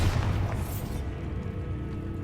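The Bombarda explosion spell in the video game Hogwarts Legacy, heard as a deep booming blast at the start that rumbles away under a steady low game background.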